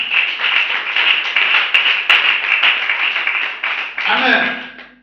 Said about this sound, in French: Let's clap for my brother.